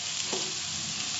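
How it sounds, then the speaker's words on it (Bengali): Chicken sautés in a pan for Konkani chicken curry, a dense, even sizzle up close with a brief stirring scrape partway through. "এবার চিকেনটা কষা হচ্ছে"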